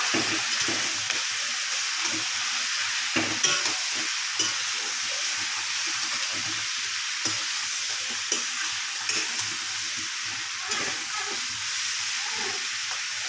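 Ground coriander, chilli and cumin powders sizzle in a pan while being stirred, a steady close frying hiss broken by soft scraping strokes throughout.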